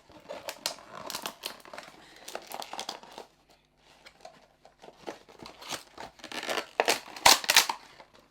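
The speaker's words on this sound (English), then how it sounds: "how one opens the packaging" Product packaging being opened by hand, irregular bursts of crinkling plastic, rustling and tearing, close and fairly loud, pausing briefly mid-way before a busier, louder stretch of crackling.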